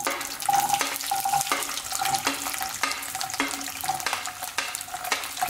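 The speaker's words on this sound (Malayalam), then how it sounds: "നന്നായിട്ട് ഇളക്കി കൊടുക്കാം." Whole garlic cloves sizzling in hot oil for chicken pickle, a continuous frying crackle broken by regular scraping stirs of a spoon against the pan, close and fairly loud.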